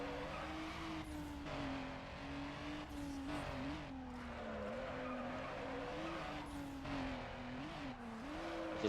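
Car tires squeal and skid through a long drift in Need For Speed Underground, a sustained wavering screech over a steady engine drone, loud and continuous for the whole stretch.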